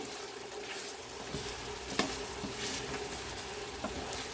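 Spicy prawn masala being stirred in a pan, a steady close sizzle with soft scraping and occasional clinks of the spoon, no talking.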